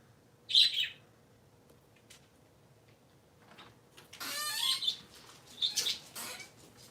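Three pet parakeets chirp in short, bright bursts close by, with a sharp call early on and denser twittering and fluttering toward the end over a quiet background.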